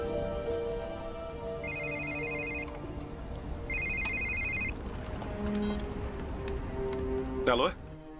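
A telephone ringtone in a dubbed Brazilian suspense film repeats in two electronic bursts over a busy background score, moderately loud, with a sharp rising sweep near the end and no speech over the rings.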